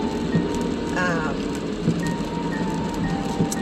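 Rain falls steadily outside on a cold day, a constant dense patter with occasional louder drops, heard close with a brief tonal whine partway through.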